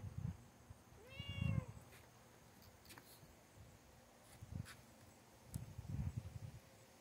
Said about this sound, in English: My cat's out here.